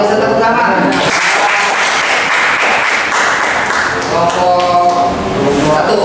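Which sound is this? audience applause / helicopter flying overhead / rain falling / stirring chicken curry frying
audience applause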